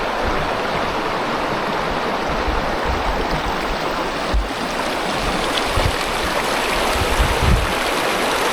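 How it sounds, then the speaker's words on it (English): Water rushes and babbles steadily over rocks in a small Idaho creek, a continuous close flowing sound with no voices. "You can see this little creek."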